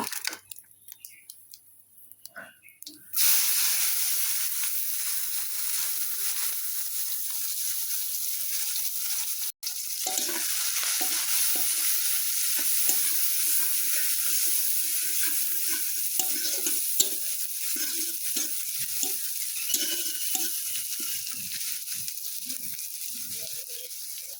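Onion with cumin seeds and bay leaf fries in hot oil, starting with a sudden burst of sizzle that then runs on as a steady, loud crackle with frequent spoon stirring and scraping, and no talking.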